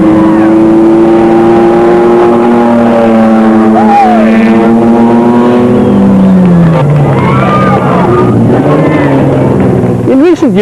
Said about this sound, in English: They were followed by the Toyota Land Cruiser of Tschumi and Carl van Pieren, seen here about to overtake the Mitsubishi